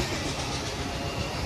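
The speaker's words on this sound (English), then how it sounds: "That's a great train." A passing freight train hauling crates makes a loud, continuous rumble and rattle of rolling wagons, close and unbroken, with no talking.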